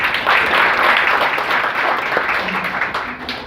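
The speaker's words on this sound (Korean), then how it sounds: "큰 박수 부탁드립니다" An audience applauds ahead of a blockchain technology demonstration, with a full round of clapping that swells early and then gradually thins out over a few seconds.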